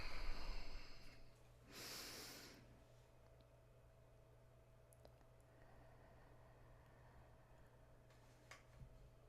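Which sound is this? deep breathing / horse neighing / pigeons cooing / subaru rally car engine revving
deep breathing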